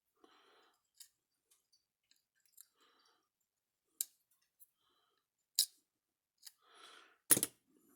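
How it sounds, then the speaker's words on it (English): Scissors snip off excess material during a Gallagher S17 repair, giving sparse, faint, sharp clicks and a few louder close snips scattered through near silence, with no talking. "Snip off the extra."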